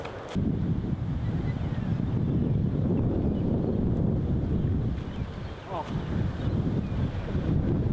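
Wind gusts blow across the microphone on a disc golf course at a Melbourne tournament round, making a continuous loud low rumble throughout.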